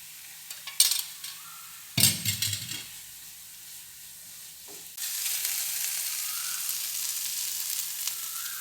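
Oil hisses and sizzles in a pan while masala egg fries, with a few clinks of a utensil and a short stirring burst before a steady close sizzle takes over.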